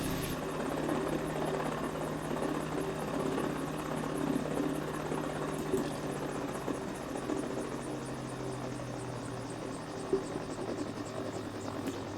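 A Mini 500 light helicopter in Microsoft Flight Simulator, its rotor winding down on a coastal landing spot near Kiama, Australia: a continuous buzzing whine with a rhythmic blade chop, steady and moderately loud, its pitch slowly sagging.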